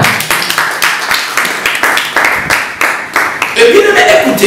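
A church congregation claps in a steady rhythmic beat during worship, loud and close, with voices calling out over the clapping and a swell of cheering near the end.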